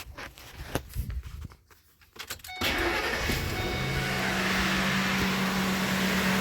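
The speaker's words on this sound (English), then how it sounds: "And I'll go ahead and start the vehicle." A Ford F-150 with a high idle fault cranks briefly and catches, settling into a loud, steady idle close by after some quieter rustling and clicks.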